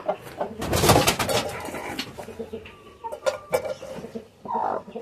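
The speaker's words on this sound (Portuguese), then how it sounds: "Parece que tem umas galinhas ali" Hens in a coop on a farm raising chickens, clucking and cooing in scattered bursts, close by and moderately loud, with no talk over them.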